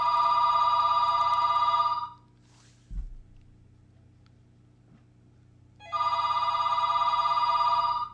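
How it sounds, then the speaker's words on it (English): A telephone rings twice at home, two loud, sustained electronic ring bursts separated by a quiet gap with a soft knock, all over a low background hum. "obviously our telephone is ringing"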